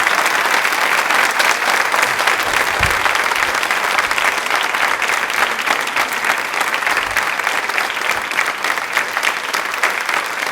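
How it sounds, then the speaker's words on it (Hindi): Audience applause on a Rajasthani television quiz programme for a Women's Day special, sustained and evenly loud clapping from a crowd for about ten seconds, filling the room without any speech. "तालियां अपने लिए जोरों से शोरों से बजा दीजिए"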